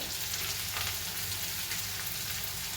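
Onion, green chili, ginger, curry leaves, carrot and a dried chili sizzle steadily in hot oil, a close, continuous hiss and crackle throughout.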